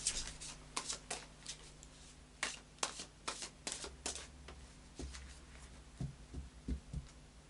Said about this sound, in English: I'm going to do another shuffle